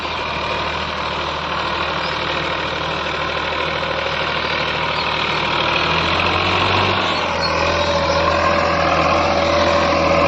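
A Massey Ferguson 245 DI diesel tractor ploughs a field with a deep-tillage implement, its engine chugging loudly and steadily up close, the tone shifting slightly partway through as the load changes.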